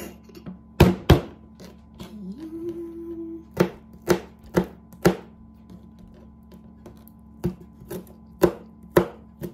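An onion chopped with a knife on a board, crisp thunking cuts coming in uneven bursts, close up, with no voices.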